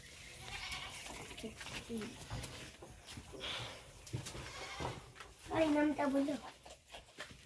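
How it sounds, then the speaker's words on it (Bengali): A goat bleats a few times under a person talking, with a clearer wavering bleat near the end over a busy outdoor background. "ছাগলটা দেখো কেমন লাগছে।"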